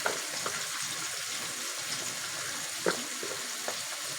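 Onion frying in oil for Egyptian koshari, a steady close hiss of sizzling with a few faint clicks, no talk.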